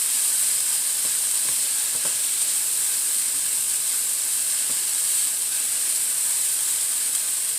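Food sizzles and fries in a pan for tofu nachos, a steady bright hiss with a few faint clinks of stirring, moderately quiet and uninterrupted by talk.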